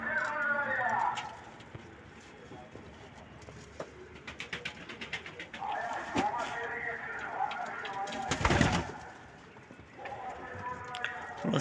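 Hungry birds at feeding time in a bird keeper's aviary, with pigeon- or dove-like coos and calls rising and falling across the clip, plus a loud burst of fluttering or scuffling near the middle.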